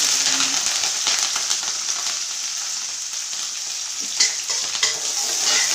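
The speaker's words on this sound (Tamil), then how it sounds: "எல்லாம் நல்லா வதங்கட்டும்" Cumin, dried chilies, garlic, curry leaves and shallots fry in hot oil in a pan, giving a steady, close sizzle with crackles and a few clinks of stirring throughout, with no talking.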